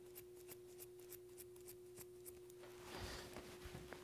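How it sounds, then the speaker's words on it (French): Scissors snip through nylon pantyhose in a quiet series of quick, regular cuts, close and faint, ending with a brief rustle of fabric being handled. "je vais tout simplement prendre ma paire de ciseaux et je vais couper la base"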